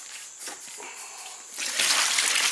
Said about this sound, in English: We'll rinse it out, get that stuff off.